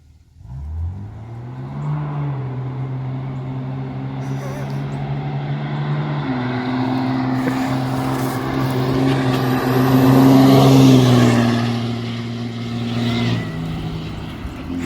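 A 2006 Cummins diesel truck with an 8-inch axle-dump exhaust, 5-inch downpipe and 8-inch tip starts up and revs, a deep, loud rumble that climbs and holds in pitch, with a voice briefly heard over it.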